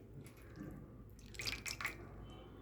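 Water drips and trickles while a small Laddu Gopal idol is bathed, with a few clear drops standing out in a quiet, close-up indoor setting.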